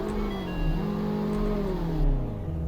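A front-wheel-drive, four-seat car in the Greenville video game starts and revs, its engine pitch rising and falling in smooth sweeps, steady and fairly loud with no talk.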